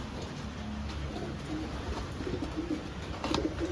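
Soft cooing of pigeons or doves, low and repeated, over a steady background hum, fairly close.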